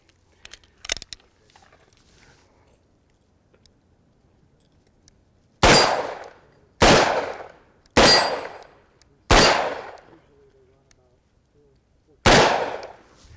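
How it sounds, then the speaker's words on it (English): Five loud, sharp double-action revolver shots from a Ruger GP100 Match Champion ring out against a 5-inch steel plate at 15 yards, spaced about a second apart with a short pause before the last, each with a brief decaying tail, after a faint knock early on. "that last one, 5-inch plate, 15 yards, shooting double action"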